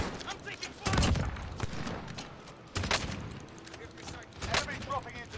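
Bursts of rapid gunfire ring out in a multiplayer video game shooter match, coming in loud volleys with short pauses between them, while a player talks over the action.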